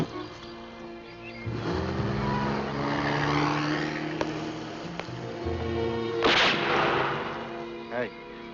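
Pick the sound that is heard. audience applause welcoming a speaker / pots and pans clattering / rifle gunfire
rifle gunfire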